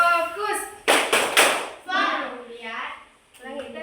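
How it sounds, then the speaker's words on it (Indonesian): Classroom of students doing a rhythmic focus-clap routine led by a teacher, with three sharp, loud claps in quick succession between spoken call-and-response phrases. "Ini ibu kurang fokus deh, coba tepuk fokus dulu."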